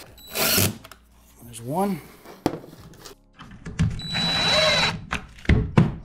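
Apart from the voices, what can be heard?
drill driving short screws into RTA cabinet drawer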